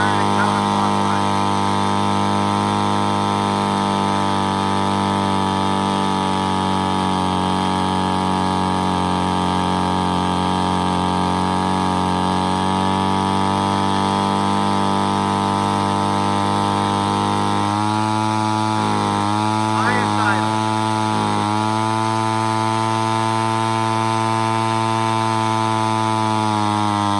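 A Ryobi CS26 gas string trimmer engine runs steadily and loud at close range during carburetor adjustment, with a constant high drone that bogs and surges in a few dips near the end before settling back.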